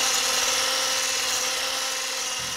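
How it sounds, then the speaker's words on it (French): A hand blender whirs steadily while mixing cream with melted white chocolate for a red-fruit and chocolate dessert, a continuous close buzzing drone with no pauses or talk. "Et on va mixer encore un peu rapidement pour que ça se mélange"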